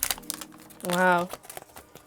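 Plastic wrap crinkles and rustles in a short loud burst while an iPhone 11 box is unwrapped, with a person talking before and after it.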